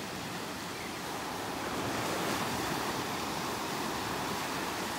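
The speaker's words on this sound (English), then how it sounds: "The wind is blowing offshore" Steady roaring wind buffeting the microphone on Naples beach during Tropical Storm Gordon, a dense, loud, unbroken rush with no voices.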